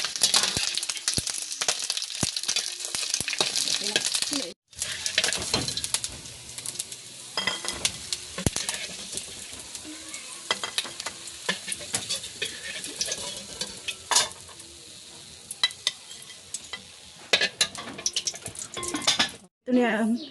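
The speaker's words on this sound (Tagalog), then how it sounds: "I-fry ko lang mga sisters para maging crispy siya ng konti." Sea cucumber fries in a pan until crispy, with a continuous sizzle broken by stirring scrapes and clinks of a utensil against the pan, close and fairly loud.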